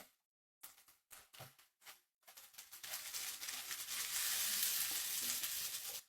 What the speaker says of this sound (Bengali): আদা ও রসুনের কাঁচা গন্ধটা চলে যাওয়া পর্যন্ত এগুলোকে একটু ভেজে নিলাম